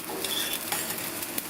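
Steady dry scraping and rustling of flattened rice being roasted and stirred in a hot pan for kesari, with faint crackles and occasional spatula scrapes, close by, no voices.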